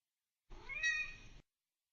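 One distinct cat meow, close and clear, lasting roughly a second with a rising then falling tone, surrounded by silence and no talking.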